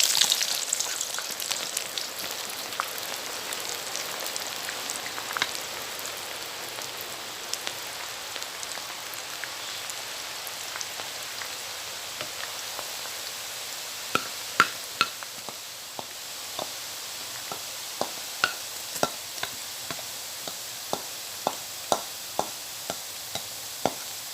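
Shallots sizzle steadily in hot oil in a pan, a continuous crackling hiss with sharp pops that become more frequent toward the end, heard close and alone.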